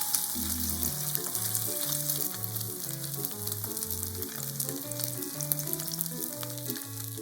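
Okonomiyaki batter fries on top of pork on a griddle, a steady high hiss running beneath a plucked melodic music track that dominates the foreground.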